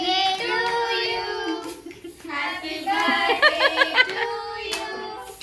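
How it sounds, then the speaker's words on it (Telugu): Hands clapping at a family birthday cake cutting, short irregular bursts of claps mixed with chuckling and speech from adults and children. "చప్పట్లు కొట్టాలి"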